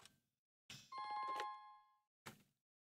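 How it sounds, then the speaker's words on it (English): A telephone rings once with a bright, tonal trill, framed by brief soft knocks before and after. "Phone ringing."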